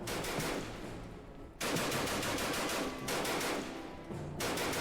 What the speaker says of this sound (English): I'm just trying to press A to, like, interact with things, and I'm just shooting bullets